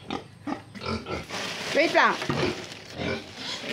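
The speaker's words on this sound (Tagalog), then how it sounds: "Makukulit kasi itong mga baboy na yan." Pigs on a farm grunt and squeal in short repeated bursts, close and fairly loud, under someone speaking Filipino over them during feeding duty.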